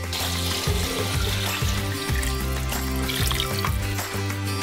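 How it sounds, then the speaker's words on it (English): Water pours steadily into a pot of vegetables and bones nearby, a continuous splashing gurgle with a rhythmic low clatter underneath. "and pour some water on top."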